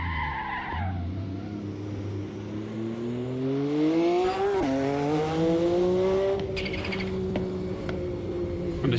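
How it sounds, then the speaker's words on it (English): A turbocharged race car in the Assetto Corsa game, a Mercedes or Porsche, revs with a rising engine pitch through gear changes and a sharp tire squeal, loud and close, with no talk. "the sound of the blow-off valve and the turbo is just crazy"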